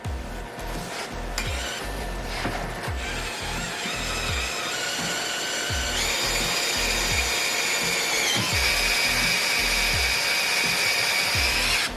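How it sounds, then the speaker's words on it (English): Power drill boring a hole in wood, a steady motor whine rising in pitch as the bit bites, with repeated low thumps and some clatter from the workpiece, close and continuous with no talk. "Drill in the hole."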